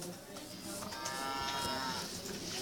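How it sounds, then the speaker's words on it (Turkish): A cow mooing in the video game Minecraft, one short, low, drawn-out moo heard faintly and alone. "Ayı inek sesi çıkartıyor."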